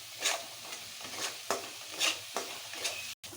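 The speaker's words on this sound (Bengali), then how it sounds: "আমার মশলাটা ভালো করে ফ্রাই হয়ে গেল" Spice paste masala sizzling in a pan while being stirred, with a few distinct scraping strokes about half a second apart over a soft, close frying hiss.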